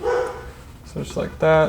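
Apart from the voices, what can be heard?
dog barking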